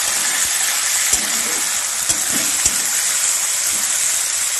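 Chopped vegetables and ginger garlic paste fry in hot oil for ghugni, a steady sizzling hiss with a few soft knocks of stirring, close and fairly loud, no one speaking.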